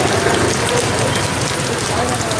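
Steady rain falling outdoors near a pontoon bridge crossing, a dense, even hiss of drops on surfaces that stays loud and continuous throughout.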